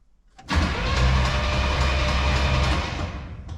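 After a brief quiet moment, a 1967 Pontiac Grand Prix convertible's starter kicks in and cranks the engine steadily for about three seconds, a loud, even, whirring churn that never catches.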